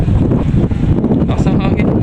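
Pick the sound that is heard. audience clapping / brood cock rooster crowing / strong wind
strong wind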